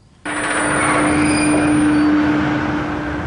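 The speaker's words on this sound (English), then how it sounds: "the pusher vehicle attaches to the train and launch the train into the mountain" A sudden loud mechanical roar kicks in and holds steady, a powerful catapult launch of a roller coaster train by a pusher vehicle on Space Mountain at Disneyland Paris, with a sustained whine running through it.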